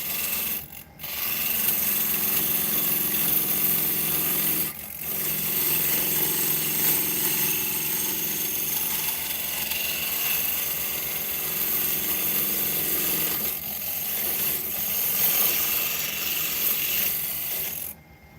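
A wood lathe spins a mahogany top mounted on a dowel, giving a loud, steady rubbing and scraping hum that runs almost continuously, broken by a few short pauses.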